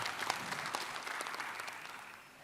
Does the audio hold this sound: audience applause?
yes